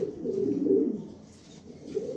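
Low, burbling coos from pigeons offered for sale swell and fade in a continuous throaty murmur, nearby and moderately loud, dipping briefly before rising again, with no voices.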